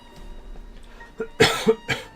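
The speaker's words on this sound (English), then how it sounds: "sorry, coughing today" Two or three sharp coughs from a nearby speaker, preceded by a quiet throat-clearing rasp, loud against a faint background hum.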